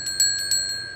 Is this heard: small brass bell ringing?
yes